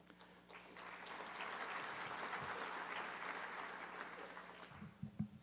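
An audience at the McMurry 100 awards ceremony claps for the honorees, a broad wash of many hands that swells in, holds steady for several seconds, then thins out near the end as a few louder sounds break through.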